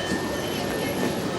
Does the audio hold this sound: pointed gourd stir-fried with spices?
no